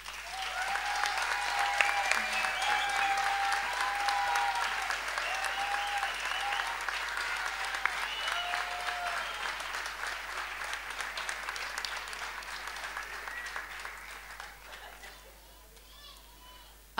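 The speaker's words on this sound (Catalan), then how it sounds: "Demanem un fort aplaudiment per a recent proclamats Pubilles i Hereus 2023." Strong applause from a crowd at a town festival proclamation of Pubilles and Hereus, sustained clapping with children's voices and cheers over it, slowly fading toward the end.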